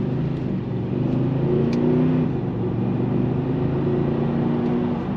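A Mercedes-AMG car cruises at steady speed after warming up, its engine a low, even drone with a slight swell midway, heard from inside the cabin with no talking.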